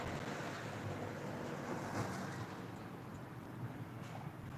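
Steady wind buffets a small Avata FPV drone in flight at an outdoor flying field, a continuous broadband rush with gusty swells and no clear pauses, loud and close to the microphone.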